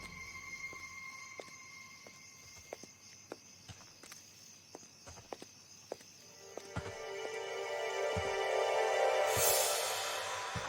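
Footsteps fall one by one at a steady walking pace along a street, sharp and fairly close, with a faint steady hiss underneath; toward the end a louder rushing noise swells in and then fades.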